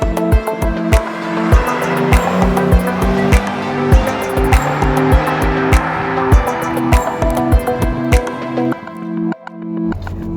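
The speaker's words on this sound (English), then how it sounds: "I can just put my foot into it like here, and the car just leaps, and it just pulls and pulls and pulls with no end in sight" A 2021 Toyota Supra 2.0 accelerates hard, its engine loud and close with a steady rising drone and a quick run of sharp repeated pulses through the pull. No one speaks.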